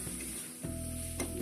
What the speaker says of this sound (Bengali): মশলাটা ততক্ষণ কষবেন যতক্ষণ না আমার থেকে তেল বেরোয়।